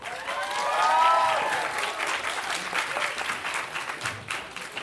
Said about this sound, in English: Let's give another huge round of applause for Jinko.